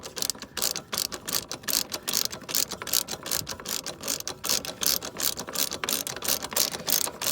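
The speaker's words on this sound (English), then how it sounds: "I'm just ratcheting it." A hand ratchet clicks steadily in quick, even bursts close by as it tightens a line nut on the turbo manifold of a 2007 Freightliner Columbia truck, with no talk over it.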